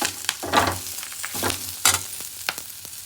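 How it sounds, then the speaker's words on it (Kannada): Brahmi (ondelaga) leaves sauté in a pan with a steady crackling sizzle, broken by frequent scraping stirs and spatula taps. Close up, with no talking. "ಸೊ ಇವಾಗ ಇದನ್ನು ಇಷ್ಟು ಬಾಡಿಸ್ಕೋಬೇಕು ಸ್ವಲ್ಪ ಹಸಿ ವಾಸನೆ ಹೋಗ್ಬೇಕು"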